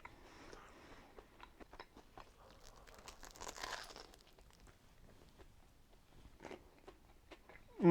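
Biting into and chewing a crispy tuna melt sandwich made with raw tuna on toasted bread, giving a steady run of close crunches and chews, quiet and alone.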